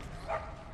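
A dog in the Mad Max video game gives a single short bark, quiet and somewhat distant against the game's low rumbling background.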